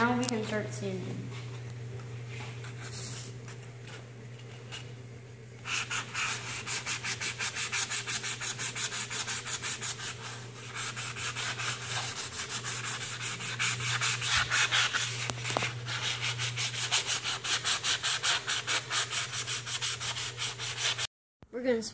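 Sanding dried wood filler on a pinewood derby car, a steady rasping rub that runs continuously at close range, growing denser and rougher partway through with a constant low hum beneath.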